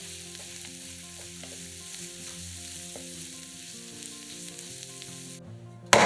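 Mushroom filling sizzles in a frying pan as it is stirred, a steady soft crackle over sustained background music, ending with a sharp brief clatter.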